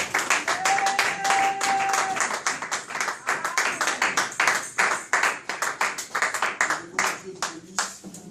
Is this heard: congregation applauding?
yes